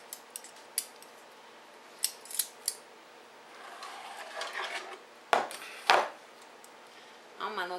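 Metal kitchen tongs handled while brining and preparing pork chops: several sharp clicks and clacks scattered irregularly, then two louder scraping clatters near the end, with faint rustling between.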